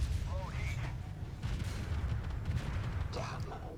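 Tank cannon fire in the video game Armored Warfare: a heavy rumbling low-end roar runs through the whole stretch, with a louder burst near the start and another later, under continuous battle din.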